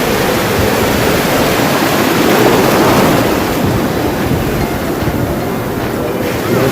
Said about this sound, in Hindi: समुंदर का आवाज़ सुन, शायद आप तो वेव का आवाज़ भी आ रहा